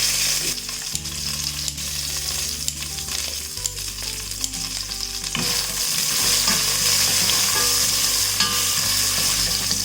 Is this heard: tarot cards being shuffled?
no